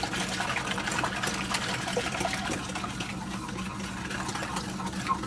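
A steady pour of milk flows continuously into a bowl, a smooth, close gushing stream that holds at an even level throughout.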